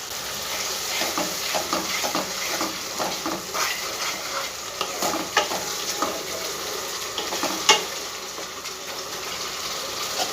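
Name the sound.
spice paste (masala) frying in a pan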